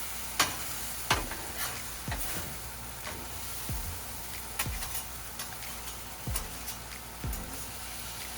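Vegetable stir-fry with mushrooms sizzles steadily on a Blackstone griddle, a constant hiss punctuated by regular sharp scraping clacks of a spatula against the flat top.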